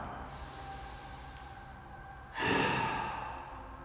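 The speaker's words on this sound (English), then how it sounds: "let's start with a nice deep breath in through the nose, followed by a nice big exhale out through the mouth" A deep breath drawn in through the nose during a yoga session, followed by a loud, broad exhale out through the mouth that swells in near the end and trails off; close and unaccompanied by talk.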